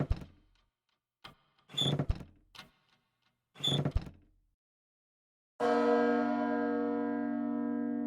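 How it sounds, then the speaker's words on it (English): A video game bell is struck once after a few short, separate thumps, then rings out loud and steady, its tone sustaining without fading. "The bell!"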